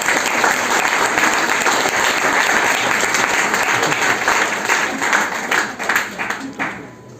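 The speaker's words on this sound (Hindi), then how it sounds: "एक बार इनके लिए जोरदार तालियां हो जाए।" Vigorous applause from an audience at a distributor home-meeting style seminar, honoring a diamond leader; dense clapping holds strong for several seconds, then tapers off near the end, with some voices mixed in.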